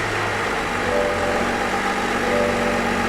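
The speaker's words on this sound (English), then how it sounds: "Let's start it up and see, make sure we got no check engine lights or anything." A car engine with a newly fitted cold air intake idles steadily and close by, a continuous mid-pitched hum with a low drone, alone with no talk.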